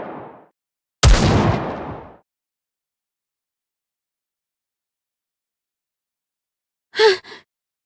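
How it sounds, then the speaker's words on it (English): Gunfire in an anime-style mobile shooter game's story scene, a single loud, sharp blast lasting about a second, followed by silence and then a brief faint double burst further off. "Those gunshots."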